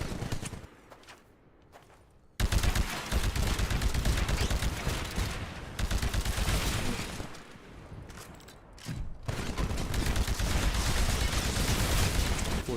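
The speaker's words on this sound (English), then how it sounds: "Destroy the Titan with your anti-Titan weapon." Titanfall anti-Titan weapon fire, with heavy, loud bursts of firing and mechanical clatter that start abruptly after a quieter stretch, dip once, then resume.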